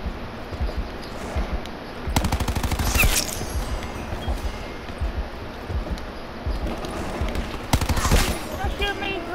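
Bursts of automatic gunfire in Call of Duty: Black Ops 4 multiplayer, rapid rattling volleys in two main clusters over a steady game backdrop.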